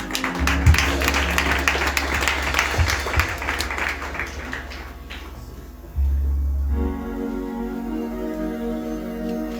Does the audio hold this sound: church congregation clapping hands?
yes